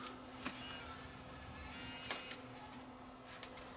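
Sony CCD-TRV715 Hi8 camcorder closing its tape compartment and running its loading mechanism, a steady whirring motor hum with a high whine and a few faint clicks at the start and midway.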